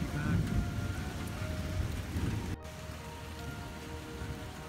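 Rain falls steadily during a severe storm under a tornado watch, a dense near hiss with low rumble that suddenly drops in level midway, as if a door or window shut.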